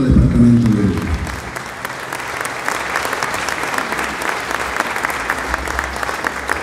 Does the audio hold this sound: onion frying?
no